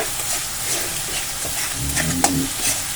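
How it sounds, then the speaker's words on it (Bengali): Yogurt and spices frying in a pan while being stirred, a soft steady sizzle with scraping spoon strokes near the end, close and moderately loud, for a pea paneer dish. "দিয়ে আমি দেখো ভালো করে মিশিয়ে নাড়াচাড়া করে নিচ্ছি।"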